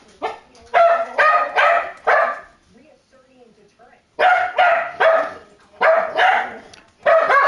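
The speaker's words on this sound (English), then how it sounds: "Stop with the barking." A dog barks close and loud in quick clustered bursts, pausing briefly before a second series of sharp, repeated barks.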